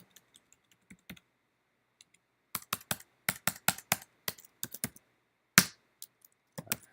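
Keys clatter on a computer keyboard in quick bursts of clicks, a few scattered taps first and then a dense run of typing, close and fairly quiet with no talk.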